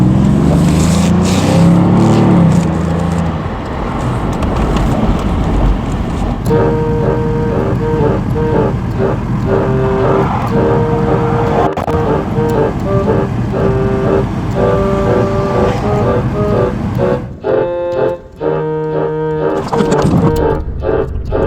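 A Rover 827Si's engine revs hard while the car is driven, loud and close, with a rough roar that climbs and falls. Later come steady droning tones and brief drops near the end. No speech is heard.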